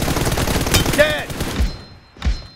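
Video game gunfire in a squad shooter, a quick burst of shots followed by two separate booming reports, loud and close, with voices partly over the firing.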